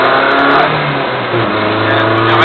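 Car accelerating out of a corner onto a straight on a driving course, a steady mid-pitched engine note that holds loud and close throughout with a slight rise in revs, no talk.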